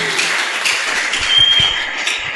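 A church congregation applauding to acclaim the Lord, with sustained, even clapping from many hands filling the room for a couple of seconds.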